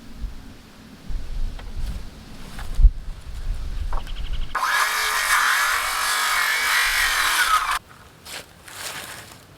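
Wooden decking boards for a deer blind restoration are handled with knocks and shuffles, then a power saw rips through a board in one loud, steady cut lasting about three seconds before the noise drops away.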